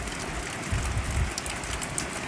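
Steady rain falling through a monsoon morning, a continuous broadband hiss of moderate loudness with no voices.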